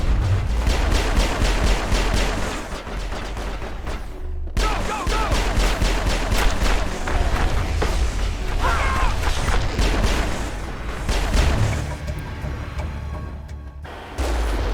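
Firefight gunfire in Mass Effect: continuous overlapping bursts of weapon fire with booms and mechanical clatter, loud and dense, briefly dropping out near the middle and again near the end.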